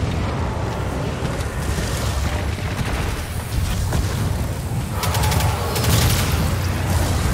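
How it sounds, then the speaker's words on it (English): Explosions from giant purple exploding enemies in the video game Destiny, during a dungeon run: a dense, continuous barrage of booms and crackling blasts with gunfire mixed in, loud and sustained throughout. "Fire. Giant purple exploding things."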